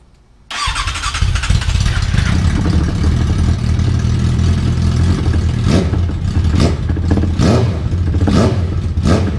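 A 160cc motorcycle fitted with a 600cc motorcycle exhaust starts abruptly after a quiet second and runs loud and close with a rough, steady idle, then gets several sharp throttle blips near the end.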